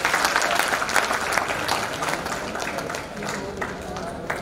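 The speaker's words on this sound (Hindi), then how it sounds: "बाकी लोग जरा इनके लिए तालियां बजाइए।" Applause from a university audience, honoring early risers who watch the sunrise, a dense patter of many hands clapping at moderate volume that gradually eases off, with a voice briefly heard under it.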